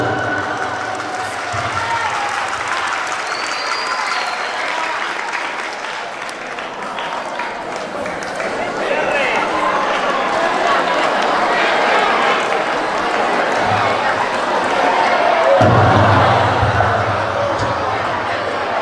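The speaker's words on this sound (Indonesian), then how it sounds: "berikan tepuk tangan sekali lagi" Sustained audience applause fills a closing ceremony of a fair, a dense wash of clapping and crowd noise that holds steady and swells slightly louder toward the end.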